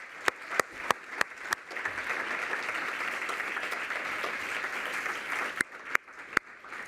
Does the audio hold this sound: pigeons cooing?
no